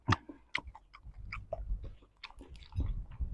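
Crispy fried field crab being bitten and chewed up close, with sharp crunches followed by a steady run of crackly chewing in an irregular rhythm.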